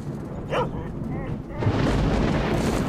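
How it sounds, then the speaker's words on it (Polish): In S.T.A.L.K.E.R.: Shadow of Chernobyl, dogs bark in the distance, a couple of short yelps standing out against a rumbling game ambience that grows louder midway. "Słyszę psy."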